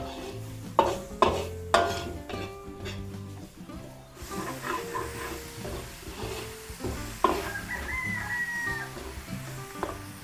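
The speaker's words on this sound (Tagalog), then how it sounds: "Halo-haloin lang po natin para hindi nasusunog yung ilalim." Ground pork stirred in a pan for Filipino home cooking: a utensil scrapes and clinks against the pan with a few louder knocks early on, over a steady soft sizzle, heard close and fairly quiet with no talking.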